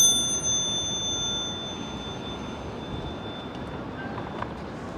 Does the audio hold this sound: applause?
no